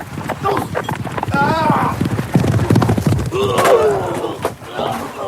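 Horse galloping with rapid clip-clop hoofbeats and a loud whinny in an audio drama, the hooves drumming steadily near and close while voices speak over the action.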